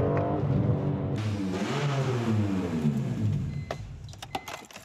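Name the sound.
BMW M3 E46 engine revving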